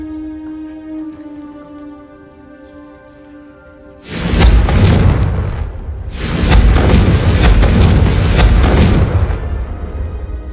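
Confringo spell blasts in the video game Hogwarts Legacy striking candelabras, two heavy booming fiery bursts each rumbling for a couple of seconds, loud and close, following a quiet stretch of tonal game music.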